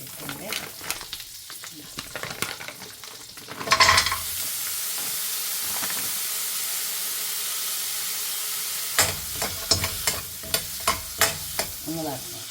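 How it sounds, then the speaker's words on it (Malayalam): Paneer fries in butter in a pan, giving a loud, continuous sizzle broken by clattering stirs and scrapes at the start and again near the end. "പനീരൊന്ന് കുറച്ച് ബട്ടർ ഇട്ടിട്ട് ഒന്ന് വറുത്തെടുക്കാം."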